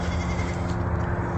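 Goats on a farm bleat over a steady, close background of rustling noise, with no talking.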